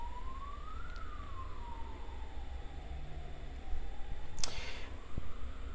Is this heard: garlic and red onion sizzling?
no